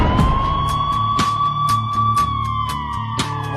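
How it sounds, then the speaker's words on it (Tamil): An ambulance siren wails close by on a street, one long steady tone that slowly falls, with brief clattering thumps of traffic around it. "ஆம்புலன்ஸ் வழி விடு. ஆம்புலன்ஸ் போகட்டும்."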